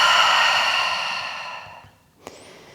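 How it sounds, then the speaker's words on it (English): A long, deep exhale flows out through the mouth as a soft, breathy sigh, close and steady for nearly two seconds before it fades into quiet, followed by a brief faint click during a yoga cool-down. "take a big deep breath into the nose and exhale through the mouth"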